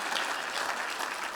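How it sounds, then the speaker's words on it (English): An audience claps steadily in a comedy club, a dense continuous wash of many hands at fairly close range, with no voices standing out. "Give him a round of applause"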